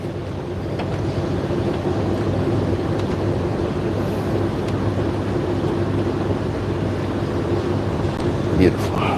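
A noisy Honda alternator pulley clutch spins steadily up close, giving a continuous droning whir with a low hum that holds even throughout, with a brief knock near the end.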